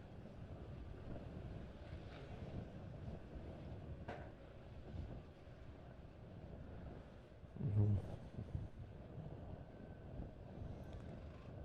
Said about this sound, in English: And here comes the sandstorm again.